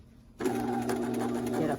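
A sewing machine starts up abruptly and stitches a sewing sample in a fast, steady whirring run, close and clear after a brief quiet moment.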